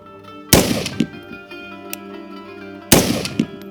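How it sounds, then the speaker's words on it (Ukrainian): Two loud, sharp rifle shots from a carbine fitted with a Holosun collimator sight, fired outdoors about two seconds apart, each with a cracking report and a short echoing tail. "Два постріли."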